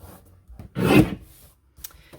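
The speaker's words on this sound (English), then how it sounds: "We're going to trim that just at 11." A paper trimmer slices a 4 1/4 by 12 inch cardstock strip down to 11 inches, giving one close, loud swishing cut with a few small clicks before and after.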